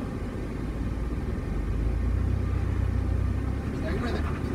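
Ford Bronco engine running on gentle, steady throttle on an off-road trail course, a continuous close low rumble with no sharp revs, holding level throughout.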